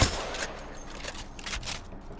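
Rapid bursts of gunfire in the video game Apex Legends while playing Pathfinder, several quick volleys of sharp shots with brief gaps between them, fairly loud and without talk.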